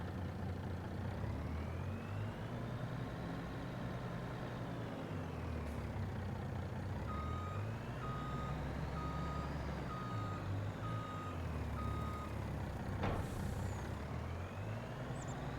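In Farming Simulator 25, a cab-over truck idles with a steady, rumbling engine hum while parking in a tight spot, then an evenly spaced series of reversing beeps sounds for several seconds, followed by a short air-brake hiss.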